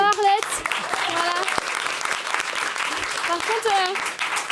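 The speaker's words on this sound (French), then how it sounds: "On l'applaudit." A theatre audience at a French stand-up comedy show bursts into applause, a dense burst of clapping throughout, with a comedian talking over it.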